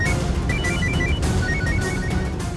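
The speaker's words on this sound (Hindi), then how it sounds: "किसी का फोन बजा ना?" A telephone rings in a domestic drama scene with a repeating, high, melodic ringtone pattern. It plays at moderate loudness over a busy background of music, and no one speaks.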